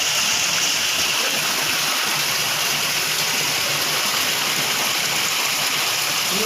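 Water gushes from a horizontal bore drilled into the side of a well at Lote MIDC, Chiplun, making a loud, steady rushing roar that holds unbroken throughout.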